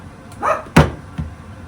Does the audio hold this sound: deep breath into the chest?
no